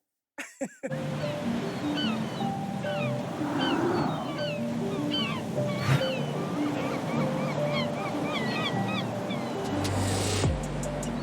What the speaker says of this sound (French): Minuscule au creux des vagues de 3 mètres, Yulen Martico-Rena n'est pas du genre à se laisser impressionner.